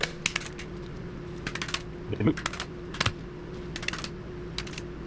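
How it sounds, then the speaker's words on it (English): Light metallic tapping and clicking comes from knocking out a worn speedometer drive gear on a 1982–1987 Honda Magna VF700C motorcycle, with small irregular clusters of close taps and a brief rattle over quiet background hum. "tap out the no longer functional Speedo gear"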